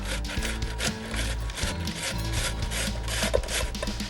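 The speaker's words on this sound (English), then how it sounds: "We're just going to cut it in half, and then we're going to run this over our box grater" A halved tomato rubbed back and forth over a box grater, making a steady wet rasping scrape that runs continuously, close and fairly loud, with no talking.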